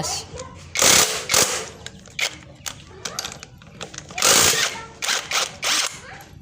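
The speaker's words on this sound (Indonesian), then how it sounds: "untuk membuka baut magnet ini menggunakan kunci 19" A wrench works loose the magneto bolt on a Yamaha RX King 135cc engine, giving bursts of metallic ratcheting clicks and clanks in uneven, closely miked spurts.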